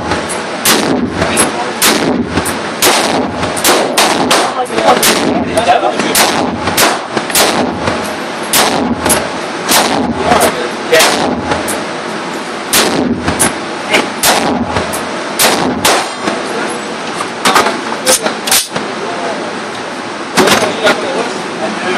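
A 7-inch experimental short-barreled rifle fires a long series of loud, close gunshots at an outdoor range, some spaced apart and some in quick succession, with voices in the background.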